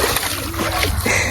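A black dog named Blackie splashes into water, a close splash and slosh with scattered droplets and spatter, loud and brief amid surrounding movement noise.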